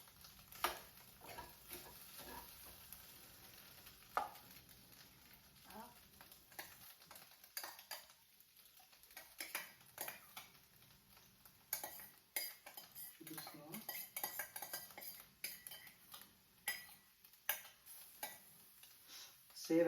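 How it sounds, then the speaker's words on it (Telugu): A spoon stirs gravy with garam masala in a pan, giving soft, irregular metallic scrapes and taps against the cookware in a home kitchen, with a faint sizzle and quiet room noise between strokes. "కొద్దిసేపు తిప్పిన తర్వాత కొద్దిగా మిక్స్ చేశాను"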